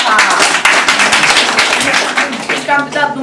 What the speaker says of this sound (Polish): Gorące brawa dla pana Adama.